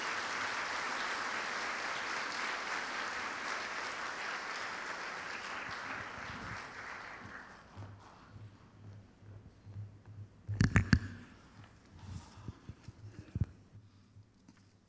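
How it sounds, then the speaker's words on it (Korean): A ceremony audience marking the anniversary of the inter-Korean summit declaration applauds to welcome a speaker, dense clapping for about seven seconds that fades into scattered claps, footsteps and a few sharp knocks near the microphone. "여러분 박수로 맞아주시기 바랍니다."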